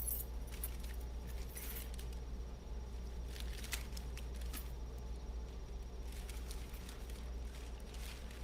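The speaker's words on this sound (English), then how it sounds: "And then there's a set of keys for a Kia vehicle." A set of Kia car keys jangles steadily and close by over a low, constant background hum, with small bursts of clinking throughout.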